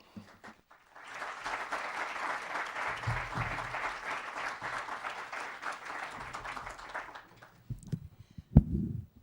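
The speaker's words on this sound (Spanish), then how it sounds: "para quien les pido un fuerte aplauso" Audience applause for the presenter at a book launch of the novel Mujeres Descosidas: steady, moderately distant clapping for about six seconds, then fading out before faint sounds of someone stepping up.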